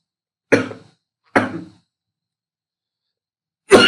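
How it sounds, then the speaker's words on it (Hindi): Two short, sharp coughs in quick succession, close and loud against silence, followed by a third burst after a pause. "थोड़ी मेरे को खांसी हो रही है इस वजह से"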